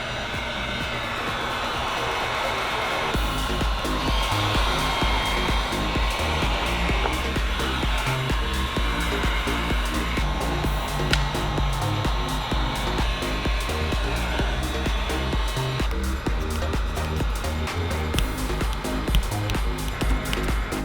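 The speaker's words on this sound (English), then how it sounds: "Post heat it a little bit." Heat gun blowing a steady, loud airflow whir while post-heating window tint film on the front door glass of a 2021 Cadillac Escalade, continuous for the whole stretch in a cold New York setting, with no talk.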